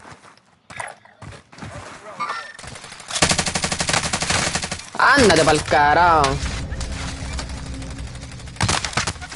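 Video game gunfire in Call of Duty Warzone, with rapid automatic bursts and sharp single shots arriving in clusters, fairly loud, while someone talks over the action.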